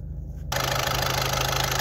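Diesel engine of a Volkswagen Golf 6 1.6 TDI (CAYC) with a turbo position sensor fault, idling in steady close-up, rising abruptly to a loud, even drone after a brief quieter start.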